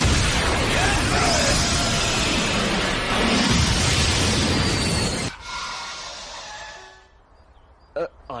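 Animated Dragon Ball Z explosions roar as a loud, dense blast for about five seconds, then cut abruptly to a quieter tail with a couple of short sharp pops near the end.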